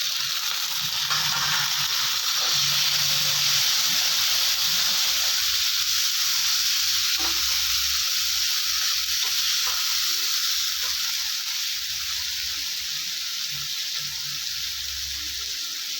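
Tomatoes and onions fry in a pan for a village-style cowpea curry, with a steady loud sizzle and hiss throughout and intermittent scraping of stirring, no talk.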